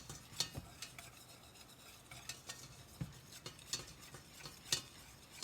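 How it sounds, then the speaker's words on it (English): A wooden spoon or utensil stirs a roux of butter and flour in a pot for a Greek pastitsio, soft scraping strokes with scattered light clinks and a faint low sizzle, quiet and steady. "I'm going to stir this to combine both and make a so-called roux."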